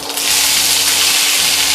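A pressure cooker whistles steadily while mutton cooks for a curry puff filling, a loud continuous hissing steam jet with a low rumble underneath, sounding alone and close throughout.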